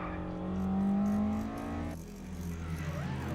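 Race car engines in Initial D Fourth Stage roar and whine nearby, rising in pitch as they approach, then a sharp shift in tone as they rush past.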